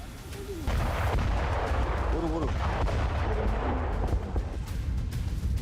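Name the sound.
explosions from air strikes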